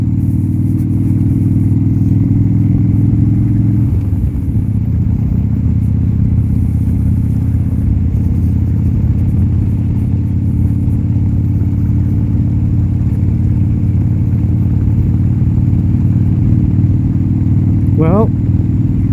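A 1987 Harley Davidson FXRC motorcycle on the road gives a loud, close, continuous low engine rumble with wind noise, holding steady throughout apart from a brief shift in tone near the start.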